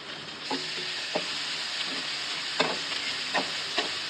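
Eight cloves of crushed garlic frying and being stirred in a pan for traditional tomato rice, giving a steady soft sizzle broken by a few brief scraping stirs, close and alone.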